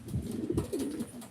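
Low, soft cooing from a co-breeding racing pigeon, a young bird on only its second flight, a continuous burbling murmur close by with no talk over it.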